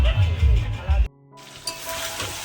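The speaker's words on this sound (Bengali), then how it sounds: "এই যে মশলা কষে কাতলা মাছের মাথা দিয়ে কষছি মুড়িঘণ্ট করার জন্য" Spices frying with a catla fish head in a pan for muri ghonto give a loud, low sizzle and stirring that stops abruptly halfway, then return as a brighter, steady hiss.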